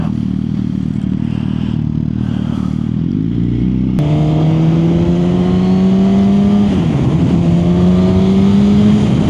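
A 1000cc motorcycle engine revs hard and climbs through the gears while being ridden, each pull rising in pitch before a shift drops it back, loud and close with road and wind noise underneath.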